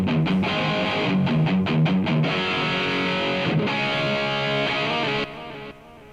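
Distorted electric guitar plays a dense rock part through an Engl amp simulation on an iPad, a thick, saturated tone with chugging low notes that drops to a quieter ringing tail near the end.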